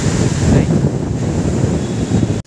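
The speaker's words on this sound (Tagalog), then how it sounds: "Lumalakas yung hangin, eh. Lumalakas yung hangin." Strong wind buffeting the microphone, a loud continuous low roar with gusty swells, ending abruptly.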